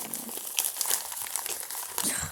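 Plastic wrapping crinkles and crackles steadily during an unboxing, a close, continuous rustle with a few sharper crunches, and a faint voice speaks softly underneath.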